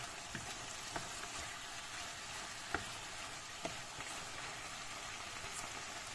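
Chicken pieces and vegetables seasoned with salt and white pepper fry uncovered in a pan, giving a steady close crackling sizzle with a few sharper pops scattered through, no voices.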